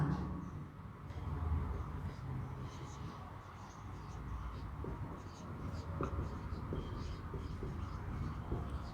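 Chalk or marker scratching across a classroom board as a teacher writes an electricity lesson topic, a steady stream of faint scraping strokes over a noisy room background.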